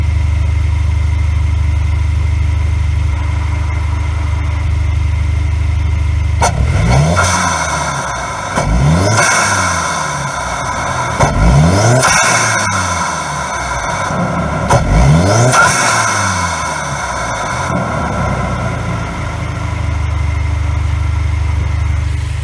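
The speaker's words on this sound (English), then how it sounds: "Now see how that intake lets you hear the turbocharger much better?" A turbocharged 2.0-litre 2018 Cadillac ATS AWD engine with a performance intake and exhaust idles with a low rumble, then revs hard several times in rising surges, with a turbo whine and whoosh audible through the intake.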